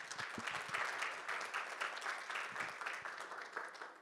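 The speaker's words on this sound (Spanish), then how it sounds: "Un aplauso, por favor, a Luis." An audience at a mining technical conference applauds a presenter, a faint, steady patter of many hands clapping for about four seconds with no talk.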